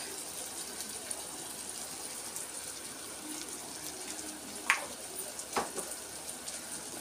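Ginger garlic paste fries with tomatoes in a clay pot, giving a soft, steady sizzle broken by a couple of faint stirring knocks.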